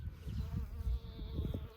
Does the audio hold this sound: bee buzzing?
yes